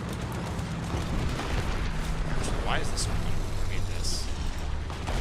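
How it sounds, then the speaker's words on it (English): Steady rumbling battle noise in the War Thunder video game, with distant booming tank gunfire under a man's brief spoken remark, dense and continuous throughout. "You can hear the gunfire going off"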